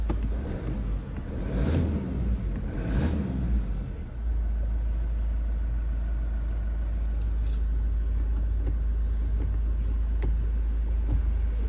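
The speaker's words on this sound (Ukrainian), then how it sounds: "Заводиться добре. То робить рівненько." A Mazda CX-5 engine idles evenly during an inspection near Fulda, giving a steady, close low rumble after a few seconds of louder handling noise at the start.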